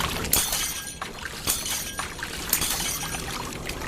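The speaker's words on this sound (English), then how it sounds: "The water increased so forcefully it cracked the glass." Glass cracks and splinters under forceful water pressure in an anime scene, sharp crackling snaps over a rushing, pouring water wash, close and fairly loud with no voices.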